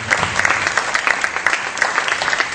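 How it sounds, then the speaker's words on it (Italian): Applause for the best short film award at a European short film and documentary festival in Specchia, a lively, continuous clapping from a crowd with crisp individual claps popping out, close and fairly loud. "Un applauso."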